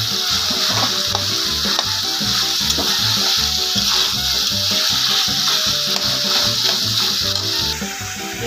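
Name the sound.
fried fish pieces sizzling in spice masala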